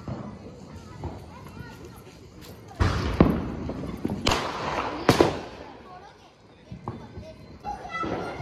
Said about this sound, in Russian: у нас прям взрывы такие. Слышите, да? Это все фейерверки.